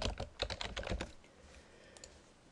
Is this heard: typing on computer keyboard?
yes